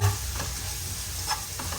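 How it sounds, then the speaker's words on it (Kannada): Ginger garlic paste and onions fry in a pan for biryani, giving a loud, dense, continuous sizzle with a faint low hum underneath. "ಹಾಕಿದ್ಮೇಲೆ ಸ್ವಲ್ಪ ಚೆನ್ನಾಗಿ ನಾವು ಹಿಂಗೆ ಫ್ರೈ ಮಾಡ್ಕೋಬೇಕು"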